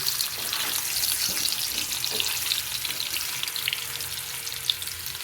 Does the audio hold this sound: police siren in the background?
no